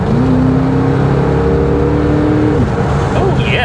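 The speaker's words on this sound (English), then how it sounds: "I guess we should probably go ahead and hit the throttle." A 1986 Chevrolet Corvette pulls hard at full throttle, its engine a loud, sustained droning roar heard from close inside the car, with a rising pitch that flattens near the end.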